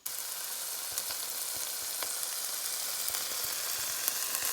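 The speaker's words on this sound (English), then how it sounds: "So my sausage is beautifully browning, it's crumbling up in the pan." Sausage crumbles and browns with onions in a hot pan, giving a steady, dense sizzle and crackle with scattered small pops throughout, heard alone at a moderate distance.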